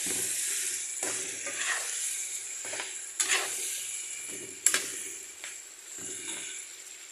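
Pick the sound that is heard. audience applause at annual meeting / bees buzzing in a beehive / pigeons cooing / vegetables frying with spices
vegetables frying with spices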